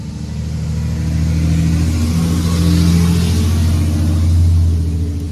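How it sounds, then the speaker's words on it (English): Trucks with bad mufflers pass on a road beside a garden, giving a loud, continuous low engine rumble that swells as they go by and fades slightly, with no voices. "Trucks go by all day long. Bad mufflers go by all day long"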